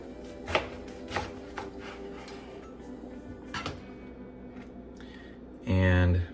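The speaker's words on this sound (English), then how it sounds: "you're gonna cut it directly in half" A kitchen knife cuts a cauliflower in half on a cutting board, giving a few sharp crunching chops in a row and then a thud of the blade hitting the board, heard close up with a faint background hum.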